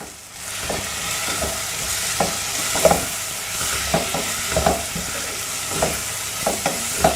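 Steady sizzling from a tawa frying pan as chili powder and turmeric are stirred in, with intermittent scraping clinks of a utensil, the taps recurring irregularly over the hiss.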